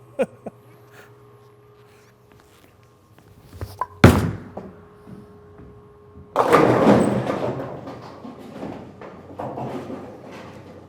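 A high-gloss polished NU Blue Hammer bowling ball hits the lane with a sharp thunk, then rolls away in a loud, rumbling roar that slowly fades, with faint clatter before the throw.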